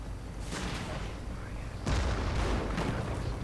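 A video game battle with PIAT and rifle grenade fire gives dull booming blasts and rumbling explosions against constant battlefield noise, heavy and fairly close.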